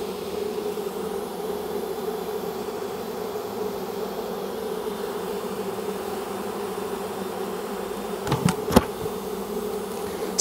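Steady, continuous buzzing of many bees being rescued from a hive in a condemned building, close and even throughout, with a few brief knocks or taps near the end.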